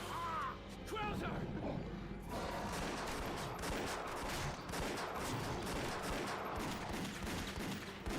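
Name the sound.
pistol gunfire in Resident Evil: The Darkside Chronicles video game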